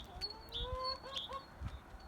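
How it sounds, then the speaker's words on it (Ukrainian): Faverolle chickens outdoors on a calm winter day give short clucks and cackling calls in scattered bursts, close and moderately loud over a soft outdoor background. "А пташки то вже взагалі готові до весни повністю. Чуєте, такий характерний кокіт"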